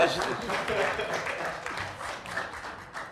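An audience at a voice-acting conference during TGS 2022 applauds the arriving voice actor Philippe Valmont; the clapping is soft and fairly distant, a steady patter mixed with murmuring voices.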